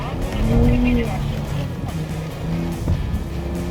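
A car launches on a rain-soaked circuit gymkhana course on Hankook Ventus Evo tires, the engine rising and falling with tire noise and wet road hiss while someone talks over it.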